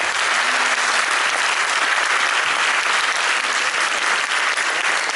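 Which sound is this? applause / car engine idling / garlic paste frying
applause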